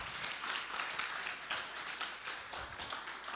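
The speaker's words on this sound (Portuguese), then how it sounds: "Aplauda o nome do Senhor." A church congregation at a Portuguese-language service claps together in a dense, steady round of applause, moderately distant and sustained throughout with no speech over it.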